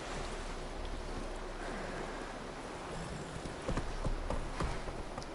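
Roach the horse's hooves clip-clop across terrain in The Witcher 3: Wild Hunt, a faint steady rhythm over a wash of water-like ambience, with sharper close hoof strikes toward the end.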